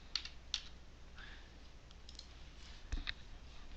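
Typing on a computer keyboard produces a few quiet, scattered key clicks at irregular intervals against a faint background hiss, with no talking.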